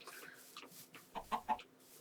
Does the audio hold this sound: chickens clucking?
yes